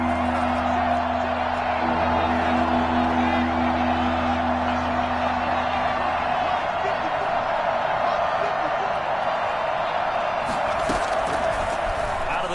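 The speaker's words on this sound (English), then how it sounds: "The crowd getting into it as we come up on a big third down" Football stadium crowd noise builds into a steady roar ahead of a big third down, a dense continuous wash of cheering and whoops with scattered shouts, loud and sustained throughout.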